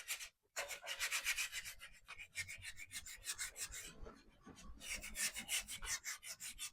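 Hand sanding of a thrifted wooden bench with 220-grit sandpaper, lightly distressing its edges: close, steady rhythmic rasping strokes in rapid back-and-forth bursts, with one brief pause near the start and another midway.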